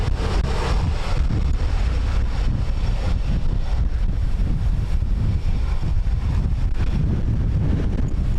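Strong gusty wind at Dublin Airport batters the microphone with a continuous loud low roar and buffeting rumble throughout, with no other clear sounds breaking through.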